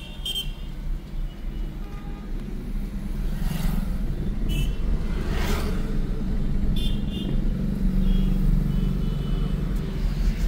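Car engine idling, then swelling slightly as the clutch is slowly released in a driving lesson, a steady close low rumble that grows a little louder partway through, with faint clicks over it and no speech.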